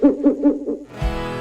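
An owl hoots four times in a quick, even rhythm, loud and upfront, followed by a rising sustained tone, used as a radio show sound effect.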